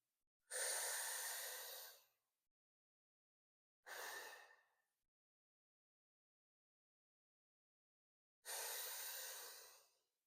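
Three long, audible breaths are pushed out through the mouth during a qi gong exercise. Each exhale is a soft, breathy rush, with quiet pauses between them, close and alone.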